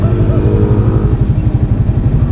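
Suzuki Raider 150 Fi motorcycle engine revving up close, a loud, continuous throbbing exhaust note with rapid pulsing and slight rises in pitch, with no talking.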